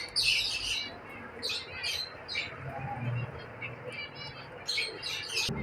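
Zebra finches call in a breeding colony, their repeated high chirps and squawks overlapping steadily against a constant background of bird chatter.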